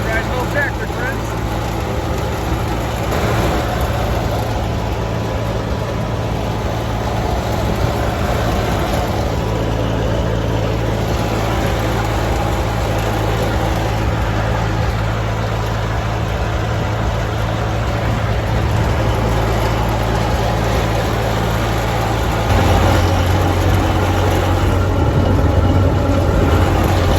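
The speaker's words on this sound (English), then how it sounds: "This ain't a bad ride, little tractor" A small Massey Ferguson TO-35 tractor engine drones steadily and loudly throughout, a continuous low hum with rattling, as the tractor keeps moving; a voice talks faintly at times.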